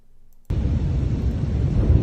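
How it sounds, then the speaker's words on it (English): Large explosion from news footage, a sudden loud broadband blast that starts abruptly after brief quiet and settles into a sustained heavy rumble and roar without easing. "It looks like a very theatrical explosion."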